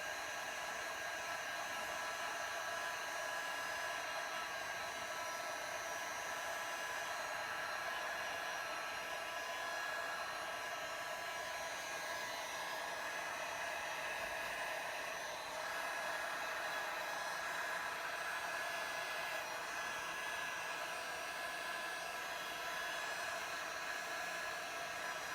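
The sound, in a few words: heat gun blowing on resin pour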